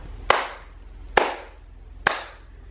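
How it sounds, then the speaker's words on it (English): Three sharp hand claps ring out alone in a quiet hotel room, evenly spaced about a second apart, each with a short reverberant tail. "All you have to do is to clap your hand."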